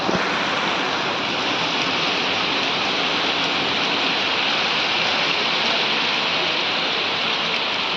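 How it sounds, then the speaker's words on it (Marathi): Steady rain pours down in a continuous, even hiss, dense and close, with no voices. "आज सकाळ सकाळ पाऊस चालू झाला आहे"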